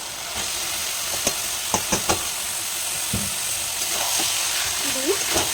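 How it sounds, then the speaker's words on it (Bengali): Boiled banana flower stirred into spice paste in a hot pan, a steady close sizzle with a few sharp scraping knocks of the spoon, under a voice speaking. "মশলাটা মোটামুটি কষাতে কষাতে এর মধ্যে দিয়ে দেবো এই সিদ্ধ করে রাখা মোচাটা।"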